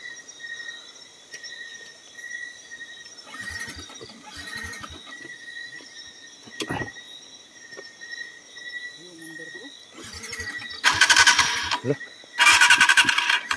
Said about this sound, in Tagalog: Ayaw mandar itong motor natin.